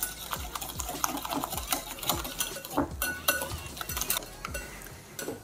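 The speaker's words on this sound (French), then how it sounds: "Et là, on mélange bien le tout." Rapid, rhythmic clicking and scraping of a utensil against a bowl as mustard and homemade mayonnaise filling is mixed for deviled eggs, steady and close.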